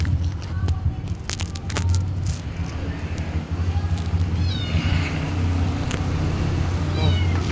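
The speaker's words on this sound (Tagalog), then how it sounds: "lumabas ng isang pusa" A cat meows several times close by at home, its cries rising and falling over a steady low hum with passing traffic noise in the background.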